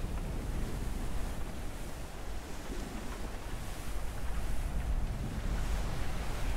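Rough sea waves in the Abandon Ship pirate video game, a steady loud roar of surf and wind that swells and ebbs throughout.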